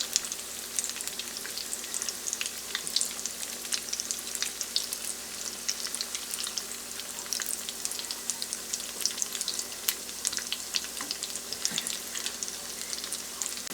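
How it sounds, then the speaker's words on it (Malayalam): Vegetable cutlets fry in a pan of hot oil for an Iftar snack, giving a steady, dense crackling sizzle that runs unbroken and fairly close, with no voices. "ഭാഗം ഫ്രൈ ചെയ്തിട്ടുണ്ടെങ്കിൽ നമുക്ക് തിരിച്ച് ഇട്ടിട്ട് മറ്റേ ഭാഗം ഫ്രൈ ചെയ്തെടുക്കാം."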